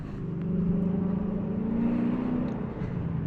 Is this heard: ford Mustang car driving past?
yes